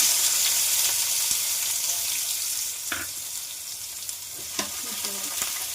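Onions fry in hot oil in a pan for homemade fried rice, a steady close sizzle with occasional spatula taps and scrapes and no voices.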